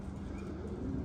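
Pigeons give a brief, faint, low coo that sits softly within background noise.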